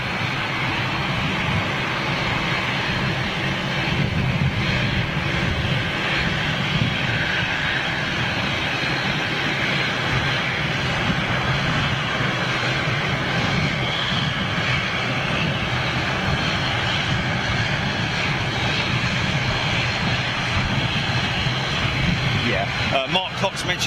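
Jet airliner engines at London City Airport give a continuous loud, broad roar with turbulent exhaust rumble that holds steadily for over twenty seconds, with voices talking underneath.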